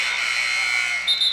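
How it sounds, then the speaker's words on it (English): A buzzer at a high school boys basketball game sounds as a steady, sustained electronic tone through the whole moment, loud and continuous, its pitch brightening near the end amid arena ambience. "Ball's in play, but we had a buzzer"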